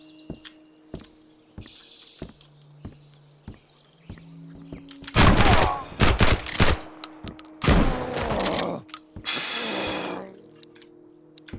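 Gunfire in the video game Road to Vostok: after a few quiet clicks and thunks, several loud, sharp volleys of shots burst out close and heavy before cutting off.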